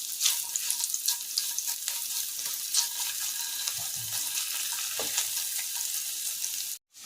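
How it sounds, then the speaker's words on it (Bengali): Onions sizzle in butter in a hot pan while fried rice is being cooked, a continuous close crackle and hiss with light stirring scrapes that stops abruptly at the end. "বাটার দেওয়ার পরে এখানে পেঁয়াজ দিয়ে দিলাম।"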